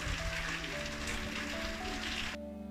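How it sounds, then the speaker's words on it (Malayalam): Heavy rain and wind outside make a loud, continuous broadband hiss and patter that stops abruptly just before the end, with no voices. "പുറത്ത് നല്ല മഴ പെയ്തുകൊണ്ടിരിക്കുന്നുണ്ട്, നല്ല കാറ്റുണ്ട്."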